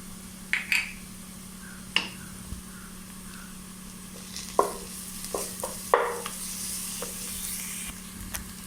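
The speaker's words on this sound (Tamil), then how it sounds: "இஞ்சி பூண்டு பேஸ்ட்டு போட்டுட்டு நல்லா வசக்கி விட்டுக்கணும்" Ginger garlic paste fries in oil in a pan for vegetable biryani, giving a steady soft sizzle under scattered scraping and clinking strokes of a spoon as it is stirred, close up and without speech.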